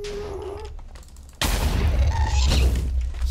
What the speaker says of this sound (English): Stop shooting fireballs at my nether portal.